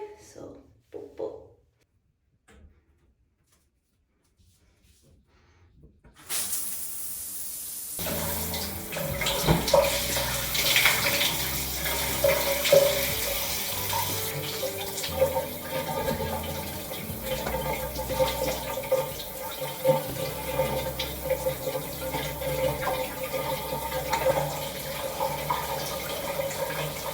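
A shower runs as a steady, loud broadband rush of water that starts after a few seconds of near silence and continues unbroken to the end.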